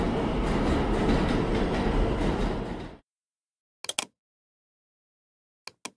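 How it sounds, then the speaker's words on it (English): A train rumbles loudly for a few seconds, then cuts to near silence broken by a few sharp clicks. "There's the train."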